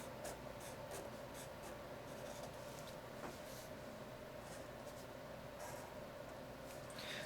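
A marker scratches short lines and humps onto paper for graffiti-style lettering: soft, close, intermittent squeaky strokes over faint background hiss, with no voices.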